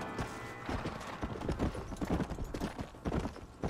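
Horses' hooves clip-clopping in the video game Red Dead Redemption, a quick uneven patter of hoofbeats on a road at middle distance over low game ambience.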